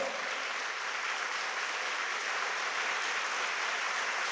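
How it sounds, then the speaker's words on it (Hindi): Children clapping loudly together during a special sermon for kids, a dense steady wash of applause that holds evenly throughout, fairly distant and without talk. "अच्छे जोर से तालियां बजाओ।"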